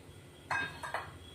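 A heavy-bottomed kadhai, a deep Indian wok, is set down on a stovetop in a home kitchen, giving one loud metallic clank and two lighter knocks close together, with quiet room noise behind.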